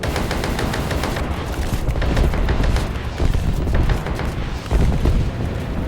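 A rapid salvo of rockets fired from an AH-56A helicopter in War Thunder, dense repeated booms and bursts layered over continuous engine and battle noise, steady and loud throughout.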